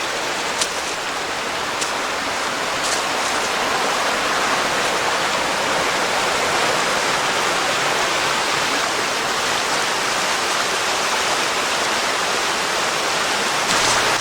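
A steady, full rush of falling water, loud and close, pouring continuously without a break and with no voices.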